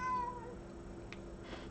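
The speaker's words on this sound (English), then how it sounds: "that's my cat" A house cat meows once, faint and close, in a quiet room, followed by a soft second call near the end.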